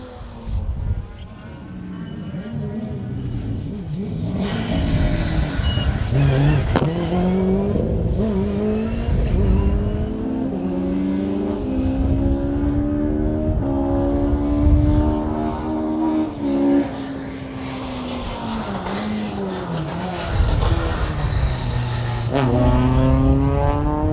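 Rally cars race on the Blyton stage, engines revving and roaring past from mid-distance, rising and falling as they accelerate and shift gears, with several cars passing in succession over a continuous open-air drone.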